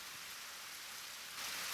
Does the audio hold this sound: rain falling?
yes